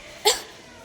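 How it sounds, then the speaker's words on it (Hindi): A single short, sharp cough from a woman with a throat irritated by spicy instant-noodle masala fumes, heard alone and fairly near. "अभी तक मुझे खांसी आ रही है"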